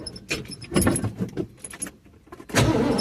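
Keys jangle close by and a truck engine then cranks and catches, its rising start bursting out near the end of a short, quiet moment.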